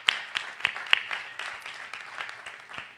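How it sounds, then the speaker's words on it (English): A small, faint smattering of applause at a conference, with a few sharp individual claps early on that thin out into scattered patter. "Let's give him a round of applause."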